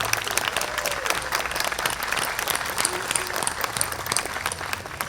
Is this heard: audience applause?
yes